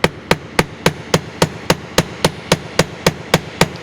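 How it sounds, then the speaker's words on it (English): A hammer strikes jewelry wire on a hard surface to flatten it, in a loud, close series of about fourteen sharp metallic taps at an even, steady pace. "So what I'm going to do is I'm just going to take this wire and I'm going to flatten it."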